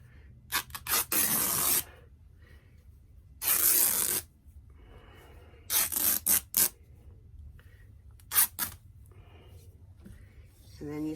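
Fabric strips torn by hand for a Christmas rag ball ornament, several sharp ripping bursts of varying length, some long and some quick, close up, spaced between pauses with faint background.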